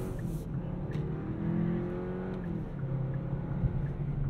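A 2022 Kia K5 GT-Line with a turbocharged 1.6-liter inline four-cylinder accelerates, a low steady engine drone heard from inside the car, with the pitch rising slightly.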